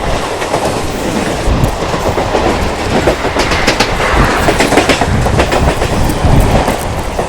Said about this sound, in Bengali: সামনে দু দুটো আইসিএফ রেক একটা এক্সপ্রেস ট্রেন আছে তোমাদের দেখাচ্ছি এরকম